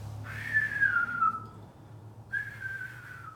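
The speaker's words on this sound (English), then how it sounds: "probably be doing the whistle, breathing out my mouth, doing the whistle" Someone whistles while breathing out through the mouth as a breathing exercise, giving two soft, falling whistled tones separated by a pause over a low background hum.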